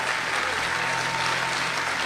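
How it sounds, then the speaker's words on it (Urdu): An audience at an Urdu poetry recital claps in a continuous, even burst of applause, close and full-bodied, lasting the whole short moment without a break. "تالیاں بجائیں یار"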